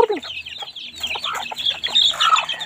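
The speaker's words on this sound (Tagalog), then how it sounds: "pang Disembrihan po ito ang ating bagong walay na mga sisiw." Newly weaned chicks and hens cluck and peep close by, a busy overlapping chatter of short calls with no voices.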